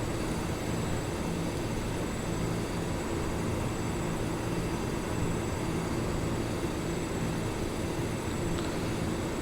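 Aircraft engines on a simulated short cargo flight from Las Vegas to Elko, Nevada, hold a steady, even drone throughout with a dense low rumble and no breaks.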